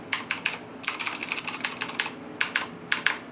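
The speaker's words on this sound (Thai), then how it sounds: "อันนี้เป็น Cherry MX Blue Switch นะ ตัวนี้มันจะมีเสียงแบบ" Clicky Cherry MX Blue switch mechanical keyboard keys tapped close up in quick irregular bursts, with short pauses between runs of crisp, sharp clicks.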